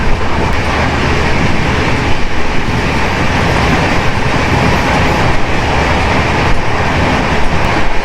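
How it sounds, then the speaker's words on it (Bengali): The Howrah–NJP special train speeds along near Barsoi Junction in Bihar, heard from on board as a loud, unbroken rumbling roar of wheels and carriages with a steady rattle and no voices. "মানে বলা চলে এক প্রকার রকেট গতিতে চলছে আমাদের ট্রেন"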